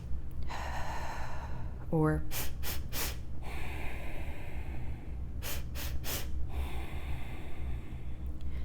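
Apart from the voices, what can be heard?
breathing in three sips through the nose, then exhaling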